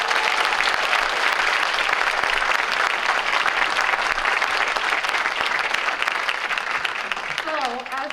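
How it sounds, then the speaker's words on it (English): Steady, loud applause from a concert audience cheering a children's winter choir, dense clapping sustained throughout with a brief voice near the end. "Can you give us another round of applause for these kids?"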